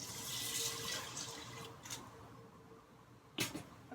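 About two and a half cups of water pour into an Instant Pot pot, a soft brief splash that fades, followed by a couple of faint clinks, with no talking.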